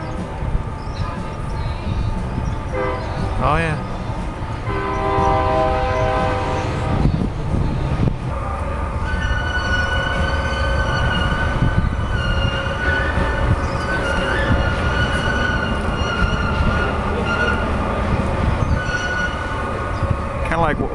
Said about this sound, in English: Now we have a train that wants to use the bridge.